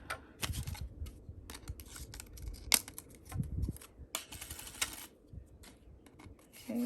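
A card stock sandwich cranks through a die-cutting machine while making a Stampin' Up! birthday card, with irregular dry clicks and rattling knocks, quiet and close, with soft rumbling between.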